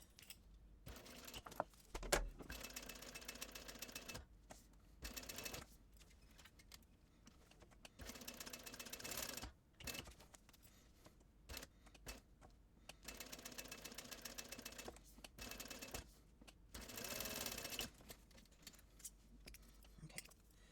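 A sewing machine top-stitches the edges of a fabric backpack, running in repeated bursts of rapid, even stitching separated by short pauses, fairly close and moderately loud with no talk.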